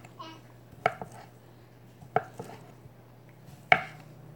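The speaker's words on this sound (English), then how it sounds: "I'm gonna cut up the sausage." Ceramic knife slicing sausage on a cutting board, three distinct sharp chops spaced about a second and a half apart, close and fairly loud over a steady low hum.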